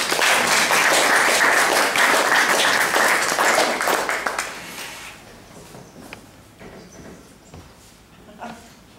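Audience applause at an outdoor brass band concert in Windsor, Vermont, with steady dense clapping for about five seconds before it thins out and fades to scattered sounds.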